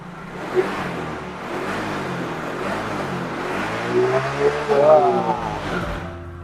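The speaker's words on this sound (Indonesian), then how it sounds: "Kalau kita wajib kita geber biar kalian tahu di sini ngebul atau tidak bisa kelihatan" A small Yamaha X-Ride motor scooter engine revs up and down close by, rising to a louder rev before easing off.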